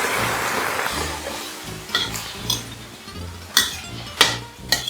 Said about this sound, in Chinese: 炒香后放入三色灯笼椒炒一炒， 然后我们就倒入刚刚调好的宫保酱汁。